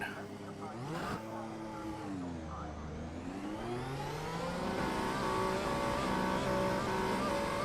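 A race car approaches on the Sebring International Circuit in the iRacing sim, engine pitch rising and falling through gear changes, then building to a steady high whine as it draws near, with a voice talking over it.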